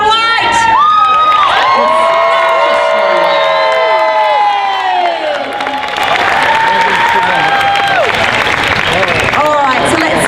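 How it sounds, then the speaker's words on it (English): A costume contest crowd at Dragon Con in Atlanta cheers, whoops and applauds, loud and sustained, with children shouting and screams rising over the clapping throughout. "let's see who got the loudest applause then"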